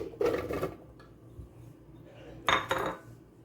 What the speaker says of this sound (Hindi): अब जिंजर को हम इसी में जग में डालेंगे।